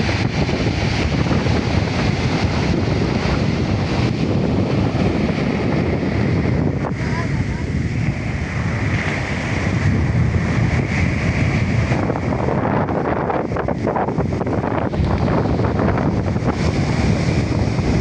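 Rough, brownish sea surf churns under heavy, constant wind roar, the crashing water blending into a loud, continuous wash.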